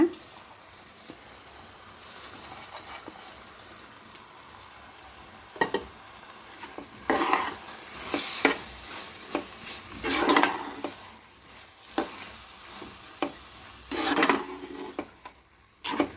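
Masala for menthya bath sizzles in hot oil while a spoon scrapes and stirs the pan in irregular bursts, close and clattering.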